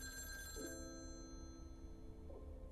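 A telephone rings in the video game Lake, a steady electronic ring with sustained tones that runs through the whole moment over a quiet ambient background, with no talk.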